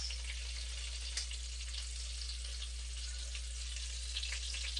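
Venison cutlets for country-fried venison fry in hot grease, giving a steady, close, even sizzle with small pops and crackles throughout and no voices.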